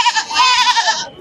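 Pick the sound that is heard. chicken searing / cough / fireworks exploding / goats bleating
goats bleating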